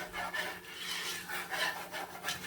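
A wire whisk working through ingredients in a bowl for meatloaf meatballs, a quick rhythmic scraping and rasping with repeated strokes, close and alone.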